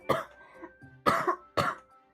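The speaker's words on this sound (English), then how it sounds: "I'm sorry for all the coughing as well." A person coughs three times, close to the mic, in short rough bursts spread over two seconds. A faint hum sits beneath the coughs.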